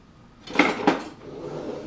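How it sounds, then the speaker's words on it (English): Cauliflower florets are tipped into a pan and stirred, giving two sharp clattering scrapes close together, then a softer, steady shuffling as they move around. No one speaks. "So in they go, and we're going to stir it around"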